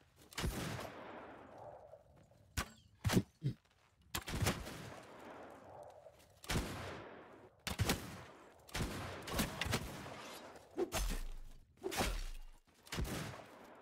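Matchlock gunfire in the Bannerlord Shokuho game, a series of sharp separate shots and short volleys spread irregularly, some close and loud, others fainter, with echoing tails between them and no talk.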